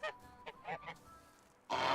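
Geese honking by their ponds in the game Medieval Dynasty, several short nasal honks in a loose series, then a louder broad burst at the end.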